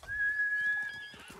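A horse whinnies in the Ghost of Tsushima video game, a thin, sustained high-pitched neigh lasting about a second, fairly faint, with soft hoof-like thuds underneath.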